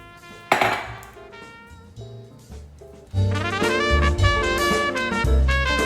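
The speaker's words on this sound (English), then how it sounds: "Now we're going to combine our wet ingredients with our dry ingredients" Clinking and scraping of utensils against a bowl as wet and dry buttermilk waffle batter ingredients are combined, with close, bright metallic knocks and a denser stretch of stirring clatter in the second half.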